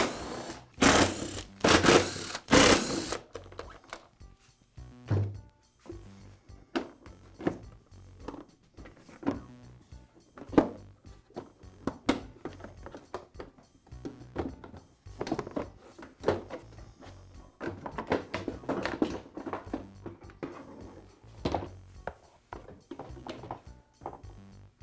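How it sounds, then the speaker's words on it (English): Rapid whirring bursts and clicks of a power screwdriver backing out the four screws holding the orange deck shroud on a Black and Decker electric mower, close up, with a loud opening burst and intermittent ticking and clunks. "Next I'll remove the orange deck shroud. It's held in place with 4 screws."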